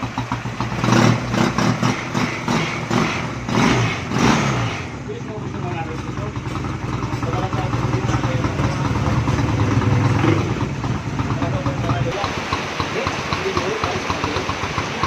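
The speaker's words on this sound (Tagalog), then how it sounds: "Ayan, umaandar na yung Honda Reveal natin. 250." A Honda Rebel 250 motorcycle engine runs close by, with sharp revving bursts early on and then a steady idle thrum, while someone talks over it.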